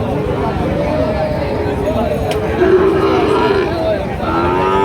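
Sahiwal cattle low steadily against a dense, noisy market din, the moos fairly close and overlapping with background crowd sounds.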